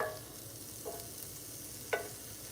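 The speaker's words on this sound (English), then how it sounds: "if you will hear the sizzle, you hear that cooking? The pan is nice and hot" Onions sizzle softly in a hot pan, a low steady frying hiss with a couple of brief scraping stirs, heard alone without talking.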